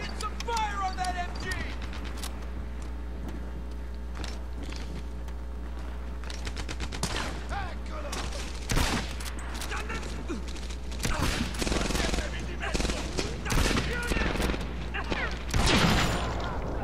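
Gunfire from the video game Medal of Honor Airborne, a steady stream of sharp shots and bursts over a constant low hum, with clusters of louder reports toward the end and voices talking throughout.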